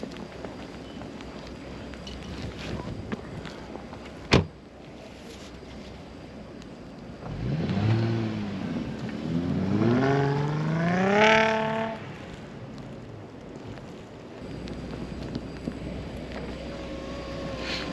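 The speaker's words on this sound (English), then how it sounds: "we're gonna do a kick down, so all the way to the floor, and see what happens" A Mercedes C300 4MATIC accelerates under full-throttle kick-down in snow: a sharp knock, then the engine note climbs quickly through rising revs with a gear change and fades away, amid soft wind noise.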